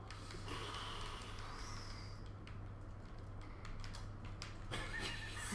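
A horse in the Party Crashers video game lets out a faint, distant whinny and snorts over a steady background hum, with no talking.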